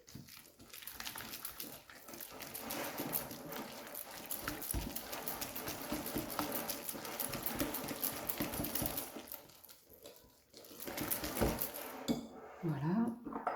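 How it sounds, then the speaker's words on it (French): A whisk beats egg into a pistachio-raspberry cake batter in a bowl, giving continuous fast metallic clinking and scraping close by, steady for most of the time before easing near the end. "On va prendre le fouet."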